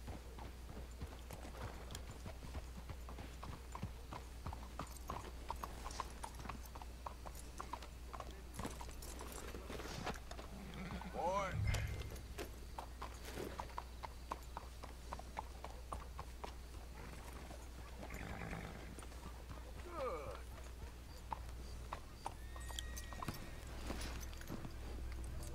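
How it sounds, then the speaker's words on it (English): Horses' hooves clip-clop at a steady walking pace in Red Dead Redemption 2, with one sharp whinny near the middle, quiet and moderately distant against a low ambient hum. "Let's hitch your horses up ahead."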